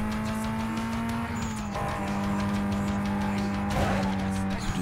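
A car driving through the city in Need for Speed Most Wanted, its engine holding a steady hum near the listener, a tire squeal and a brief burst of skidding partway through.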